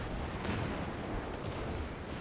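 Artillery fire in Company of Heroes 2 during a 4v4 match on the Vielsalm map: a rumbling wash of distant shelling and booms rolling continuously at moderate loudness.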